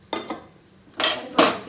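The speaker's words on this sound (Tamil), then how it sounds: "இப்போ நம்ம வேக வச்சுருக்க இந்த பருப்பை அதில் ஊற்றிடலாம்" Cooked lentils being poured into a sambar pot of cooked vegetables: two light clinks of metal, then two louder, longer clattering scrapes of a vessel against the pot, close by with no talk.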